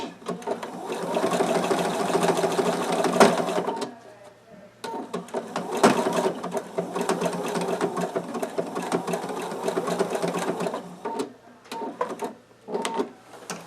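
Sewing machine running zigzag stitches along a fabric face mask over a nose wire: bursts of rapid, steady mechanical whirring, close and loud, broken by brief stops and a few short starts near the end, with a voice talking at times.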